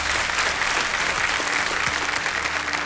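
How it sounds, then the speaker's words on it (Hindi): Studio audience on a televised quiz show applauding, steady sustained clapping from a large crowd filling the whole moment. "तालियां बजती रहें इन सब के लिए।"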